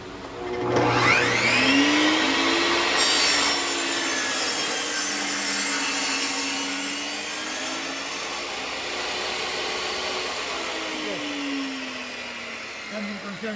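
A power saw whines loudly as it cuts through scrap wood against the fence, a steady, close grinding roar lasting several seconds before easing slightly toward the end.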